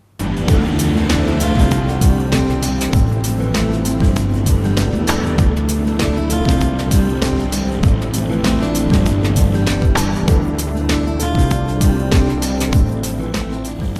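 Vintage cars at a classic car rally on Delhi streets, engines roaring steadily and loudly for the whole stretch, with a dense rumbling drone and repeated sharp pops and revs, no speech.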